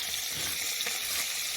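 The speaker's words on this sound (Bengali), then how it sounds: "ওদিকে আমার ভাজা হচ্ছে" Koi fish fry in hot oil in a pan during village-style cooking, giving a steady, close, continuous sizzle and crackle with no talking.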